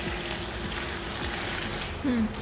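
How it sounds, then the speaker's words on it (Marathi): Coriander leaves fry in hot oil in a pan for chivda, giving a steady, even sizzle that fills the clip at moderate loudness, with a short low tonal sound near the end. "कोथिंबीर चांगली परतून घेऊया त्याच्यात।"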